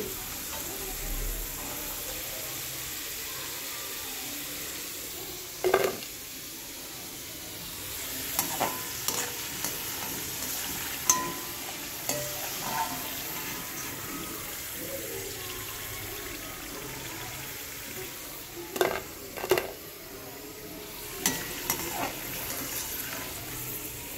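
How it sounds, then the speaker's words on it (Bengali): Potatoes soaked in salt water frying crisp in a pan of oil, a steady soft sizzle with occasional stirring clatters and scrapes, heard alone at moderate distance. "তো খুব অল্প অল্প দিয়েই কিন্তু ভেজে নিতে হবে"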